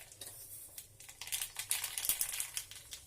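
Mustard seeds crackle and pop in hot oil for a tempering, giving rapid irregular clicks that build into a dense, close spattering burst.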